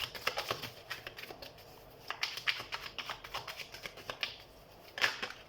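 Tarot cards being shuffled and drawn by hand, giving soft, quick papery riffles and flicks in uneven bursts, faint and close, with no talking.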